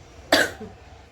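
A single short, sharp cough from someone suffering a cold and cough, close and clear against a quiet room.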